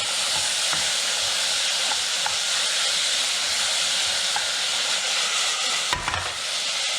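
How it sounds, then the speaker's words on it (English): Sweet potato lentil soup with tomato and bay leaf being stirred in a pot, giving a steady, loud broadband hiss and simmer with faint scraping throughout and no voices. "Give it a quick stir."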